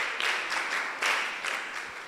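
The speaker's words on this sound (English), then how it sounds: "clap for yourselves" An audience at a mentorship session breaks into a short burst of applause, with dense clapping that swells and fades over about two seconds.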